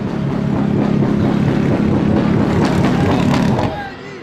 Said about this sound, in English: I don't think I've ever heard an engine running quite as awful sounding as that